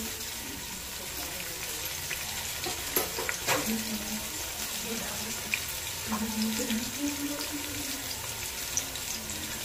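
Sliced onion sizzles and fries in a pan in a steady hiss that runs throughout, with faint scraping and clinks from the cookware now and then.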